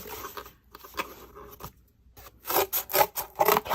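A blade cuts through a piece of cardboard in a craft setting: soft scraping strokes at first, then louder, rapid rasping cuts toward the end, close to the listener.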